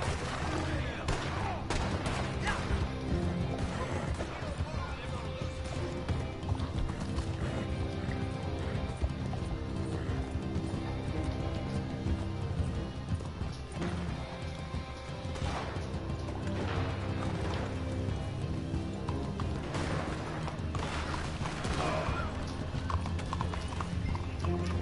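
Horse hooves clip-clop steadily alongside occasional neighing during a game chase, set within a dense, busy soundscape with music and effects, no talk over it.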